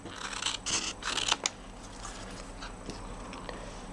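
Scissors trim cardstock by hand for a handmade card, a run of crisp snipping cuts close up early on, then quieter faint handling and rustles.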